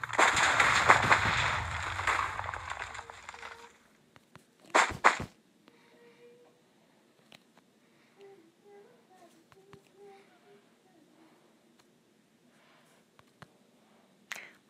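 A Minecraft explosion blows up a Death Star build, opening with a loud, dense crackling blast that fades over a few seconds. A couple of sharp pops follow, then quiet game sounds with scattered faint ticks.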